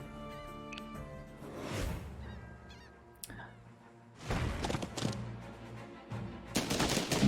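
Gunfire and cannon blasts from the strategy video game Banner of the Maid, set at the siege of Toulon, come as several loud bursts against layered game music, with heavy impacts around the middle and again near the end.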